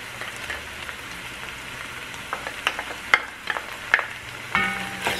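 Minced garlic frying in a pot with tender onions and peppers for pumpkin chili, a soft steady sizzle with a few scattered pops and stirring scrapes near the end.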